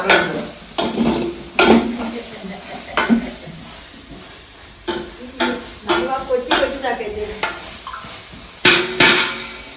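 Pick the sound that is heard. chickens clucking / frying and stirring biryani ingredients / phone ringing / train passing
frying and stirring biryani ingredients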